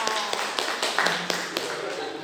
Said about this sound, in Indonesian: Tepuk tangan untuk Arta.